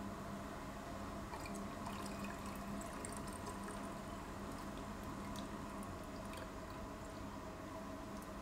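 Water pours steadily and faintly into an H2O e3 electrolysis device, a soft continuous trickle with no talking.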